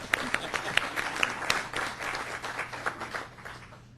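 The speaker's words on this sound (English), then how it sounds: "How about a round of applause for the nominating committee?" A small board of directors meeting audience claps for the nominating committee, a steady patter of individual hand claps at moderate level that gradually tapers off over a few seconds.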